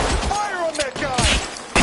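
Gunfire in the video game L.A. Noire: a quick burst of close, loud shots crackles over shouted voices and game sound.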